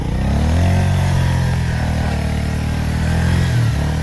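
A motorcycle engine revs hard and continuously on a slippery, rain-soaked muddy mountain road near Silauti, Panchthar, Nepal, its loud droning pitch rising and falling as it strains, with a brief deeper surge near the end.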